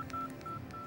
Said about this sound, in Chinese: 阿强，打电话俾佢，帮我条女。